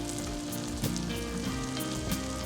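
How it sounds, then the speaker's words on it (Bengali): Chilies and capsicum frying with spices in a pan for a pickle, giving a steady close sizzle throughout with a few soft pops and stirring knocks. "এরপর মরিচ আর ক্যাপসিকামটাকে মশলার সাথে একটু ভেজে নিব"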